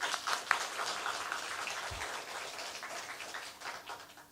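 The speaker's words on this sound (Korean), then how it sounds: "청년들 한 박수 한번 부탁드립니다." A church congregation claps for the youth group in a steady, fairly faint patter of many hands, sustained without a break during a Korean autumn early-morning prayer service.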